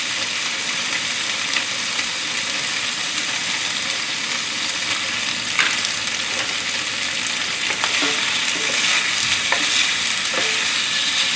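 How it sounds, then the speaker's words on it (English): Tofu pan-frying in a stir-fry pan gives a steady, close sizzle and crackle with occasional scrapes and stirring clinks, no talk. "This tofu, I'm going to cook pan fry like maybe 2 to 3 minutes on each side."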